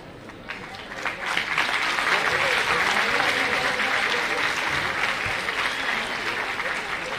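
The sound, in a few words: parents applauding at a school prize-giving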